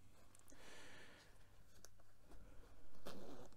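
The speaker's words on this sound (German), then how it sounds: "Dann haben wir hier nochmal eine Reißverschlusstasche" A zipper on a pocket of a civilian photojournalist vest is drawn open, giving a faint, close, rasping zip with small fabric rustles and a louder burst near the end.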